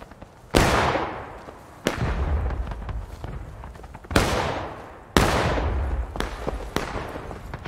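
Four loud musket volleys from the Civil War game War of Rights crack out one after another, each a sharp ragged blast that trails off in a long rolling echo, with scattered single shots between them.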